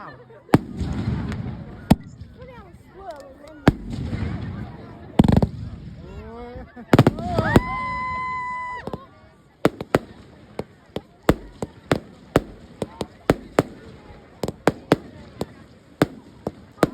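Bonfire Night fireworks in the UK go off in repeated sharp bangs and crackles, with several whistling rockets rising and a fast irregular string of pops near the end, while people talk and exclaim between blasts.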